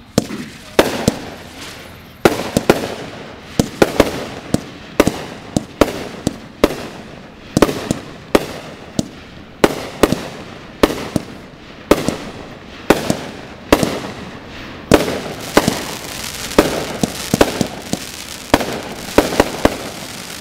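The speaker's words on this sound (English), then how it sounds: "How about them fireworks? Pretty cool, huh?" Amateur fireworks exploding in a steady series of sharp bangs roughly every second, loud and close, each burst trailing off in a crackling decay, with no talk over them.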